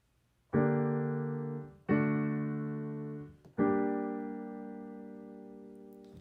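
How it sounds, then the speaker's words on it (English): Three sustained piano chords forming a cadential six-four progression, each struck firmly and left to ring before the next; the last one holds longest as it slowly fades. "this cadential 6-4 sounds like this"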